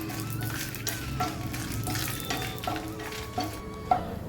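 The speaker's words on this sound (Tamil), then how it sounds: "மிளகா வத்தல் வறுக்கிறதுக்கு நல்ல எண்ணெயில் தான் நான் அதை வந்து ரோஸ்ட் பண்ண போகிறேன்" Dried red chillies, ten or twelve of them, roasting in hot oil in a pan, a steady close sizzle with light stirring scrapes and a few sharper clicks, no talking.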